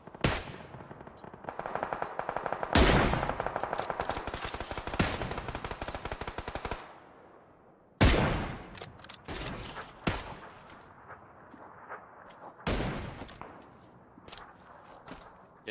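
Gunfire in the video game PUBG: sharp close bursts of automatic fire, some long sustained strings and some short clusters of single cracks, separated by brief quiet gaps with faint footsteps.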